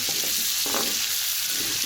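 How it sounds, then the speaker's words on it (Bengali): Potatoes sizzle in oil in a large new wok, a close, dense frying hiss with a brief stir or scrape partway through. "আলুগুলো ভেজে নিচ্ছি"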